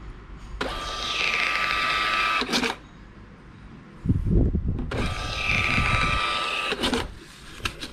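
A small receipt printer prints a sales bill in two long whirring, buzzing bursts, each ending in a sharp cutter snap, with a short rustle of handled paper between them.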